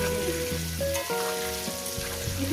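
Potatoes frying in a pan for a Bengali chicken curry, a dense continuous sizzle heard up close with no voice over it.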